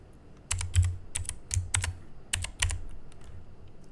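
Rapid keystrokes on a computer keyboard as a group name is typed, coming in short close bursts with brief pauses between them.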